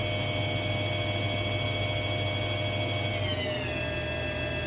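A 2004 Milltronics RH-20 CNC vertical mill spindle running at its 6,000 RPM maximum, a steady high whine over a constant hum, with the pitch shifting slightly partway through.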